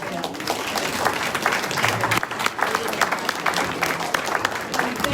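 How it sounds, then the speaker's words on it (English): Audience at an Alaska Republican meet and greet applauding the candidates, a dense, steady round of clapping from a sizable crowd with a few voices mixed in throughout. "Let's hear a big round of applause for all of them."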